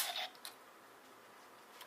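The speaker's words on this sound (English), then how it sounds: "you get a little clicking noise, a little locking noise." The scanning item of a Gokai Celular / Super Mega Silver morpher toy clicks and locks into place: a few short, crisp plastic clicks close up, followed by near silence.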